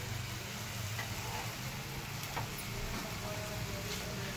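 Chicken vadas tava-frying in a little oil on a griddle, a steady close sizzle and crackle running unbroken throughout with no talk.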